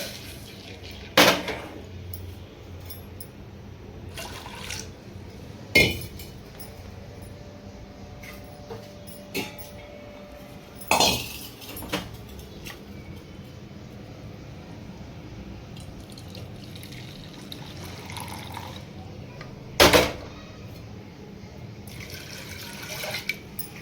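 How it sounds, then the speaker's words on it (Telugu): Water is poured and used for rinsing in a home kitchen, heard as a low trickle with several sharp splashes and clatters spaced across the clip. "కొంచెం పోసి కడిగేసుకుంటే"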